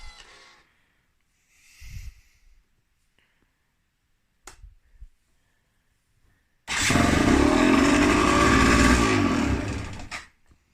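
A Gilera SC 125 motorcycle engine cranks, catches and runs loudly for several seconds before cutting out, following a few quiet knocks and clicks.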